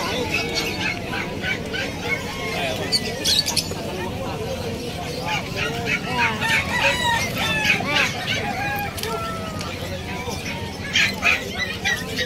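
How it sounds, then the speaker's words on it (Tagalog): Chickens and roosters at a busy pet market in Bulacan crow and cluck repeatedly, fairly close, over a crowd murmur and people talking. "Yung manok oh."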